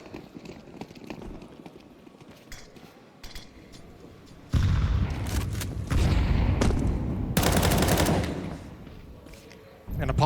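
Bursts of automatic gunfire ring out in a Counter-Strike pro match between Falcons and G2 at IEM Cologne, loud sustained volleys with spray after a smoke push, under continuous caster talk.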